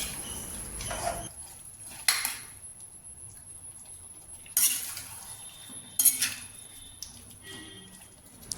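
Beef is stir-fried dry in a pan, with a few sharp metallic clinks and scrapes of a spatula against the pan standing out over a quiet background.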